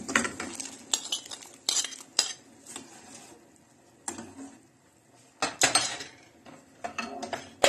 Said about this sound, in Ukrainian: зараз ми додаємо картоплю до бульйону